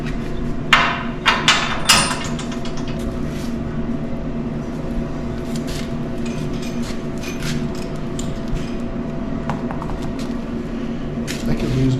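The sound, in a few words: hammering a bolt into a truck frame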